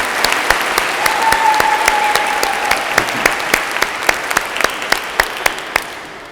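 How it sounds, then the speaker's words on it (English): Steady applause from a church congregation during a homily, clapping continuously for several seconds and ending in a few scattered final claps. "Everybody give her a round of applause."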